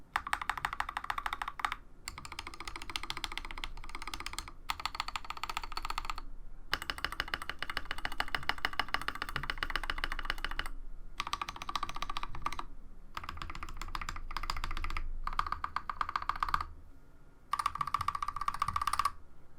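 Mechanical keyboard keys on an Akko 3098B with stock stabilizers clack in rapid bursts of typing, separated by brief silent pauses, close and crisp.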